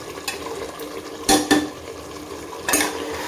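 Chicken curry masala fries in oil in a pan while a metal spoon scrapes and knocks against it, giving a few sharp clanks over a low, steady cooking rustle, with no voices.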